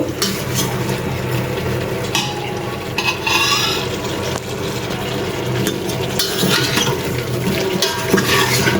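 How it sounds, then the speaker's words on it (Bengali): Drumstick pieces and potato scraped and stirred through spice paste in a pan, a continuous close sizzle with steady scraping strokes of a spoon and no talking. "এদিক দিয়ে মশলা কষানো হয়ে গেছিল, তারপর আমি এদিক দিয়ে যে সাজনা আলু দিয়ে দিলাম।"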